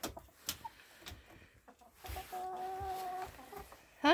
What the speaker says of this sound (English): The chickens come to see ya.